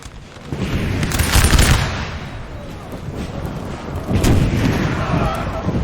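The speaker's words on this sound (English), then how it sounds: "You have the artillery, though, for France helping defend this line." Artillery fire in the Napoleonic battle game Napoleon: Total War, rolling booms and crackling volleys layered over a dense battle din, loud and continuous, with commentary voiced over it.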